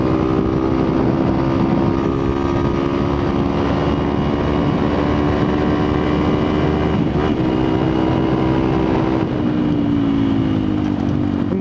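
A Yamaha XTZ 125 motorcycle engine drones steadily in fourth gear while riding on sand dunes, loud and close with a constant pitch and wind buffeting the microphone.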